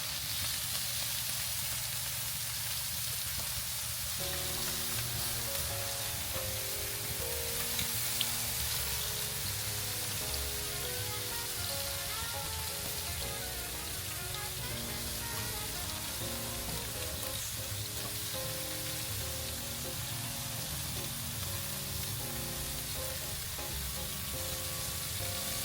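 Chicken thighs glazed with BBQ sauce sizzle on a grill, giving a dense, steady crackling hiss that runs unbroken and close by, with light popping and no voices.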